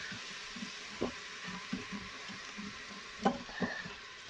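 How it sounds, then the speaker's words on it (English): Garlic and thyme stirred in a pot for an oxtail dish, with a soft sizzle under a few scattered scrapes and knocks of a spoon against the pot. "And thyme. And we're going to give that a nice stir."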